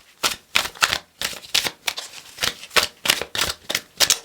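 Tarot cards riffled and shuffled in a steady rhythm, about a dozen crisp bursts of card noise close up and alone, with no talking.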